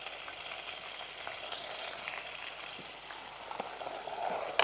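Chicken pieces fry in plentiful hot oil with a continuous, crackling sizzle, moderately quiet and steady, with a few sharper pops and a brief louder burst at the end.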